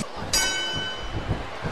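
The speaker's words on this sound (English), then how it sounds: "There's the bell, and here we go" A single ring of a wrestling ring bell at a WWE show, struck once with a bright metallic tone that hangs and slowly fades over steady crowd noise from the arena.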